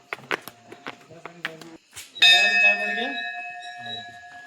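A village temple bell struck once, ringing out loud and close with a long shimmering decay, preceded by a few quick metallic clacks and some nearby chatter.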